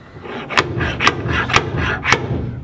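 Slide hammer pulling dents on the body of a 1964 car: four sharp metallic impacts spaced roughly half a second apart over a steady scraping, rasping background, close and fairly loud.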